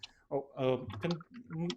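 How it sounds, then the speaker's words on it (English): Computer keyboard typing, clicking along beneath a person speaking continuously over an online meeting connection. "Can whoever is typing please make sure to mute your microphone?"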